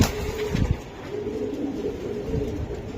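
Giribaz pigeons coo softly at a pigeon market, a low throaty burbling against a steady busy background hum, moderately close.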